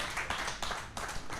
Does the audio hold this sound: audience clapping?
yes